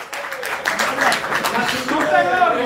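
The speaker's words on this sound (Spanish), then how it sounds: "Denle un fuerte aplauso al Rey de Reyes." A church congregation claps loudly in praise at a lively evangelical service, the dense applause mixing with voices and chatter throughout.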